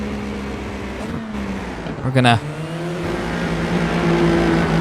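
An FIA F4 race car in iRacing drones at low revs as it rolls into the pits, with a short rise in engine note partway through. Someone talks over the engine hum.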